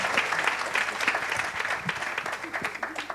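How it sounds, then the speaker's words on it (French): Applause from the audience at a federal equestrian congress, dense steady clapping throughout the few seconds with a voice faintly heard beneath. "Allez, on peut l'applaudir."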